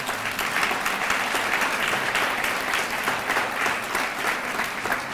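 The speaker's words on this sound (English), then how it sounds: "So, community, give yourself a round of applause." A crowd applauds steadily at a student recognition ceremony for African American student services, a dense, even wash of clapping that holds at full strength for the whole stretch with no voices over it.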